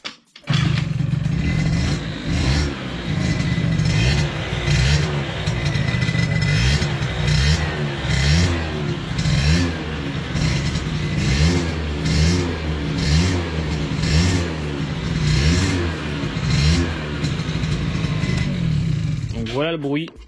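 MBK Booster scooter fitted with a new Yasuni exhaust, its small engine revving close up in repeated throttle blips and sustained buzzing for about twenty seconds, with a voice talking over it at times.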